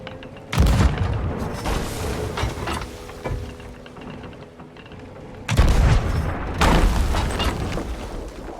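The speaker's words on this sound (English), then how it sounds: "I think 2 skellies just survived a mega keg explosion right there" Mega kegs explode in Sea of Thieves gameplay, two heavy booming blasts with rumbling debris, the first near the start and the second past midway, with crackling gunfire-like bursts between them.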